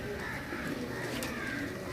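Pigeons cooing nearby, a dense, continuous low warble of several birds over a steady background murmur, with no distinct talking.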